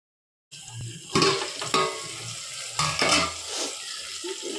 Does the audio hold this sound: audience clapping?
no